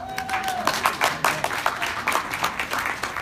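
Audience applause at a live ideas-exchange event, a burst of clapping from a crowd that swells and fades in waves over a few seconds.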